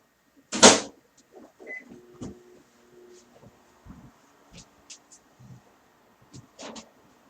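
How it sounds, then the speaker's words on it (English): A microwave oven heats a cup of coffee, opening with a sharp door clunk, then a faint hum broken by light clicks and a closing knock near the end; no one talks. "I'm heating up my coffee in the microwave"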